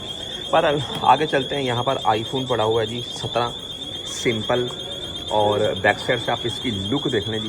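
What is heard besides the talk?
anti-theft alarm on an iPhone store display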